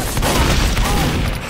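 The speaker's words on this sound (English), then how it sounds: "Crit rocket, point blank." A critical rocket explodes at point-blank range in Team Fortress 2, a loud sustained blast filling the whole moment with dense crackling noise and no clear pauses.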